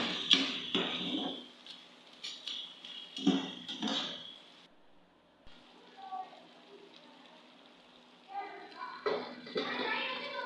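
Cleaned crab pieces are swished and rinsed with water in a vessel for a crab gravy, giving wet splashing and clinking bursts close by, separated by brief quiet gaps.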